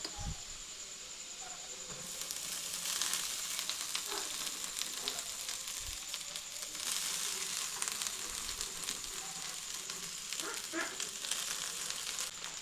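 Boiled rice being stir-fried in a hot pan for chicken fried rice, a continuous bright sizzle that swells once the rice goes in, broken by scattered knocks and scrapes of a spatula, no talking.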